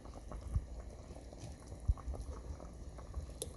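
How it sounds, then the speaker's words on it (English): A pot of vegetable soup simmers and bubbles quietly as okra goes in, giving low soft bubbling and a few faint plops and knocks close by, with no voices. "I'm gonna add the okra this moment"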